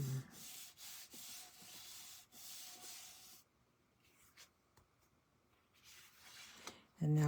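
Vellum paper is rubbed down onto a card in several steady, soft scraping passes that stop partway, after which a voice speaks briefly near the end.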